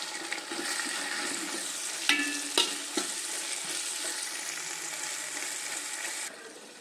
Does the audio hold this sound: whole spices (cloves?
yes